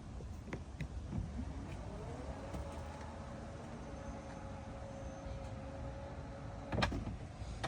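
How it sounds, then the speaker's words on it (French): Electric power tailgate of an Alfa Romeo Stelvio motoring through its travel, a steady faint whine rising then holding level for several seconds before a brief louder clunk near the end, with no talking. "Je vous montre l'ouverture du coffre."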